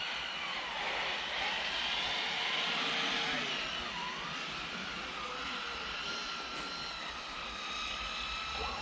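An RC car drifts on winter asphalt at a motorsport track, its small motor whining continuously with rising and falling pitch sweeps as it slides, moderately distant and steady.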